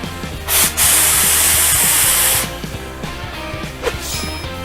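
Steam iron connected by a valve lever releases a loud broadband hiss lasting about two seconds, then drops back to a quieter background with a steady low rhythmic mechanical thumping throughout.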